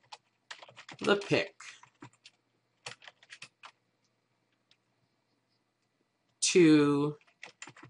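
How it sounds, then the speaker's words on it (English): Short bursts of computer keyboard typing while entering text for a Facebook profile page, with soft tapping clicks between stretches of a person talking. "I can just type anything I want."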